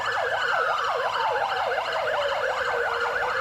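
An emergency siren wails near a lawn bowls green in a rapid rising and falling pattern, loud and continuous, with a steady tone sliding gradually lower as it passes.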